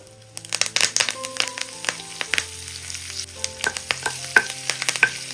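Dry chilies and curry leaves crackling in hot oil for a tempering, with sharp spatula clinks and scrapes as it is stirred, close and lively with irregular pops.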